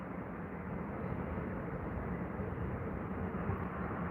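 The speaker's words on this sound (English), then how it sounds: "looking at the wings of that aircraft coming, I'm inclined to say that does look pretty big and substantial" A large aircraft approaching Heathrow gives a steady, dense roar of engine noise that holds at an even level throughout, heard alone without voices.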